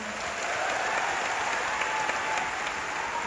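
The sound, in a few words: audience applause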